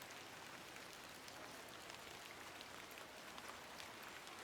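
Steady rain from a video game, falling on a surface as an even, dense hiss with scattered faint drop patters throughout, no voices.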